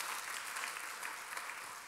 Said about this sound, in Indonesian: Boleh tepuk tangannya yang paling meriah buat Yesus Tuhan kita